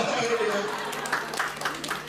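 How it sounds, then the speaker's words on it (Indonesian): Audience applause at a motivational business seminar, a steady wash of scattered clapping throughout, with faint voices mixed in. "Tepuk tangan dong."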